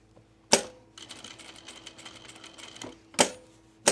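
A sewing machine top stitches a button-down shirt in a short, fairly quiet run of rapid stitching, set between a few sharp loud clacks at start and end.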